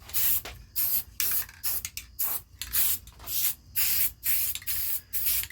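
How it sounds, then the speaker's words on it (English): Black primer sprayed from an aerosol can onto a 1970s five-band radio, heard as about a dozen close, loud hissing bursts of roughly half a second each, separated by short pauses, with no talking. "It's spraying good."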